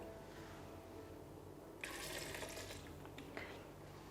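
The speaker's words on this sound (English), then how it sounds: "To 1 cup of cashew nuts, we want to put an equivalent cup of water into the blender." Water pours from a cup onto cashew nuts in a blender jar, a short, bright splashing rush that starts abruptly, runs about a second and a half, then ends with a final small splash in a quiet kitchen.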